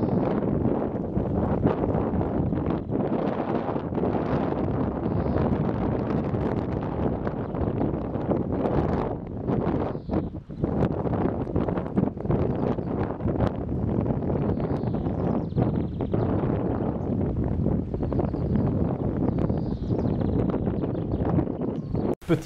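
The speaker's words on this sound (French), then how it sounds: "Ce petit vent, ce petit air là" Wind gusts by a lake, rushing and buffeting steadily for over twenty seconds as broad, rough noise with brief dips and a few faint rustles, no voices heard.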